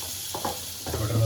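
Butter dropped into hot oil in a pan for cream of broccoli soup, a short burst of sizzling and stirring up close, brief and rising toward the end.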